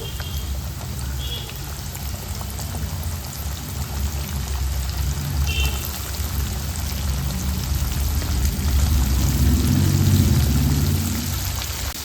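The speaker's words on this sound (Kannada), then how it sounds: "ಗೋಲ್ಡನ್ ಬ್ರೌನ್ ಬರುವ ಹಾಗೆ ಎಲ್ಲ ವಿಂಗ್ಸನ್ನು ಫ್ರೈ ಮಾಡ್ಕೊಳ್ಬೇಕು" Chicken wings frying in hot oil, a steady loud crackling sizzle that builds slightly toward the end, with no talking.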